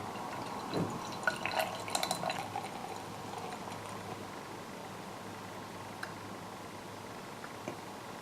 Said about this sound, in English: So there you go, so pour it into the glass.